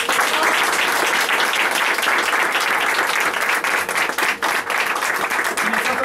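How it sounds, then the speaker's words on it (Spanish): Loud, dense applause from an audience at an evening stage performance honoring the director, sustained and even throughout with a brief dip near the end, a few voices blending into the clapping. "hemos tenido un fuerte aplauso a nuestro director"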